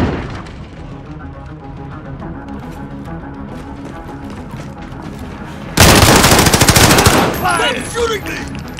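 Automatic gunfire in Call of Duty: Modern Warfare, a loud rapid burst of shots that erupts abruptly after a quieter stretch of game ambience, then fades into lingering effects.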